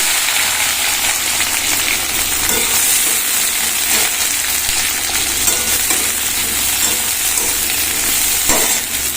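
Boiled potatoes and peas with cumin frying in hot oil, a loud continuous sizzle with occasional stirring scrapes and taps, no talking.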